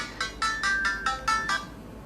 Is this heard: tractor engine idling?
no